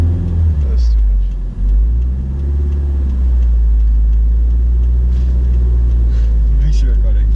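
A manual-transmission car engine rumbles low and steady as it pulls through the gears, with a brief dip near the start, while people talk inside the cabin over the drone.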